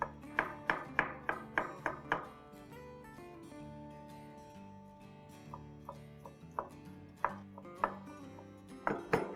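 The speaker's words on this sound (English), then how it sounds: "So let's take the stem and chop it up nice and fine." A knife chops mushroom stems on a board in quick bursts of sharp, close taps, a run of rapid strikes, a pause, then scattered chops and another fast flurry, with faint background hum.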